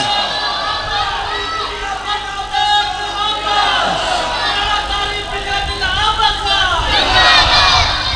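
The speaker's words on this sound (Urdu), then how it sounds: "اچھا کٹھے ہی نعرے شروع کر دینے، کٹھے ہی چپ کر جاتے ہیں" A large crowd at a religious gathering shouts slogans in unison, loud massed voices rising and falling in waves with overlapping calls throughout.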